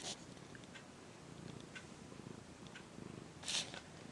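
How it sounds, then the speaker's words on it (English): A pet cat being held purrs softly and continuously at close range, a low rumbling under a faint background. A brief louder rustle comes near the end. "Can you hear him purring?"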